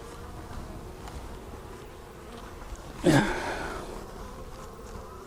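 A low, steady hum of bees buzzing around a hive during an inspection, with a brief louder swell of buzzing and rustle close by partway through.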